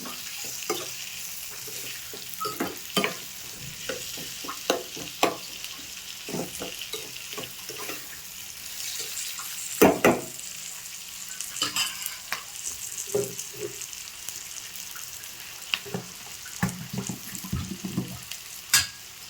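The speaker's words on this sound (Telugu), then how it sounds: "ఇప్పుడు టమోటా ముక్కలు కూడా వేద్దాం. ఇవి కూడా కొంచెం మెత్తబడేదాకా తిప్పేసుకున్నాం." Tomato pieces fry in a pan while being stirred, with a steady sizzle broken by frequent scraping and clattering utensil knocks, close and moderately loud with no talking.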